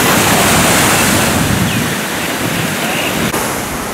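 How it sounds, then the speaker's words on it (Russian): Surf on a busy beach at Koh Chang next to a hotel, heard as a steady, loud broadband wash of breaking waves with light wind buffeting, continuous and without speech. "Ну и вот море."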